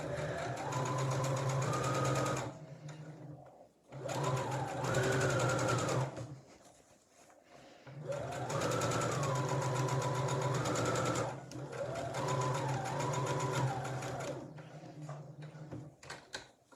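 A sewing machine stitches the corners of a welt zipper for a bag lining in several close bursts, stopping briefly between runs as the needle drops and the fabric pivots, its motor pitch rising and falling.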